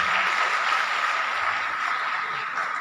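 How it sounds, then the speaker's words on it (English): Applause from a conference audience at a university health sciences event, a steady broadband wash of clapping lasting throughout at moderate level, with no voices over it. "A big clap for Dr. Saeed Khan."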